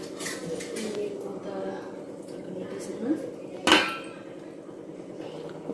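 Baghara rice stirred in a pot, with scattered clinks and scrapes of a spoon against metal and one sharper knock near the end, over a steady background hum.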